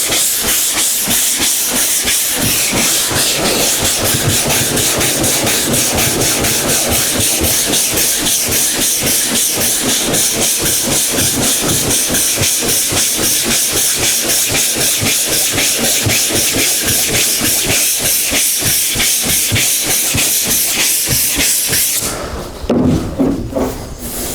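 Hand block sanding of primer with sandpaper over guide coat, light pressure: continuous close scratchy strokes in a fast even rhythm for most of the stretch, stopping near the end, with no voices.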